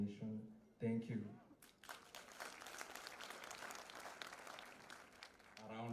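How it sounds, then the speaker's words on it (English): Audience applause at a graduation ceremony at Nyeri National Polytechnic follows a graduate speaker's speech, a steady dense clapping that swells after a brief spoken line and runs on before another voice starts at the end. "A round better clap for him"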